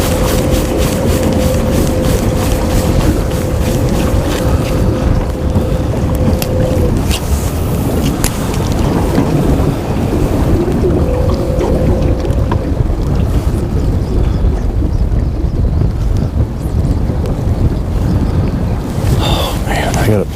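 Wind rushing steadily over a fishing boat out on the water, a constant broadband roar with gusting texture close to the microphone, and a faint tonal hum drifting in and out underneath.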